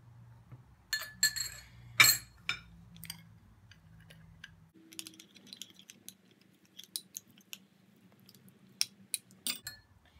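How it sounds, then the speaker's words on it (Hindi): Spoon clinking against a glass bowl while a paste is mixed with pineapple juice, giving sharp scattered taps and scrapes, close and fairly quiet, with no talking. "तो इसे हम मिक्स करेंगे इतना कि ये एक गाढ़ा सा पेस्ट बन जाए।"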